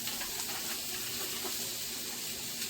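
Steady, faint sizzling of onions frying in a hot cast iron skillet, a continuous hiss with no pauses.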